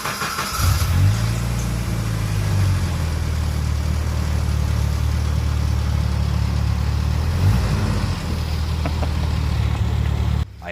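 A 1986 Jeep Cherokee XJ with a 2.5 liter four-cylinder engine driving, its loud low engine drone rising briefly then holding steady throughout, with no talking.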